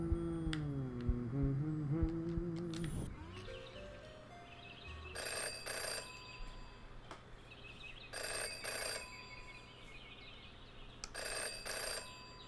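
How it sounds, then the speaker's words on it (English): A telephone ringing in the video game Jenny LeClue: Detectivu, with three evenly spaced bursts of bright electronic ringing over a quiet ambient music bed and no talk. "Jenny had learned never to ignore a ringing phone"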